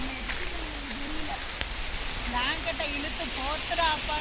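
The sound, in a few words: rain falling on a forest hut in Denmark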